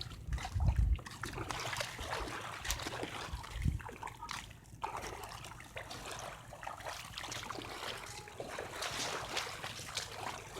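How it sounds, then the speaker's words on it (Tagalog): Ocean water at a Pacific shore, splashing and trickling steadily throughout with a couple of louder low thumps near the start, fairly close, with no voices. "This is Pacific Ocean"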